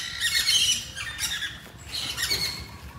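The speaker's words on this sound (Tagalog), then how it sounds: "Iba-ibang klase ng pato." Harsh duck squawks come in a few bursts, loud and close, with short pauses between them.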